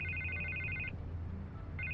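A telephone rings in the Batman: The Telltale Series video game, two bursts of trilling bells separated by a short pause, over a steady low hum with no voices.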